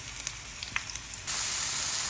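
Garlic sautéing in a pan for ginisang ampalaya (bitter melon), a few light pops and crackles, then a sudden steady loud sizzle that holds to the end, with no talk.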